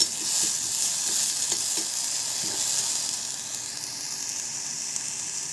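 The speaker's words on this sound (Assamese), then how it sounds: "এই তিলখিনি অলপ ভাজ খাইছে আৰু অলপ ফুটক ফুটিছে।" Sesame seeds roast over very low heat in a pan for a sesame and chickpea chutney, giving a continuous close hiss broken by scattered small pops and crackles that thin out slightly toward the end.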